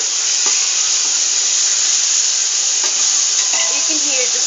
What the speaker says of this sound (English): You can hear the sound of the onions crackling up with garlic.